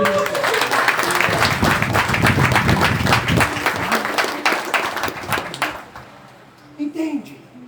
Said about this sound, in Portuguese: Pode aplaudir a graça de Deus